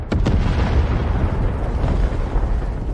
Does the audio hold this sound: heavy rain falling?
no